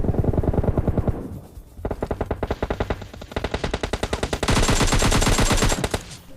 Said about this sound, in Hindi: प्री फायर दिए जा रहा हूँ लेकिन एक भी बंदा प्री फायर में फंसा ही नहीं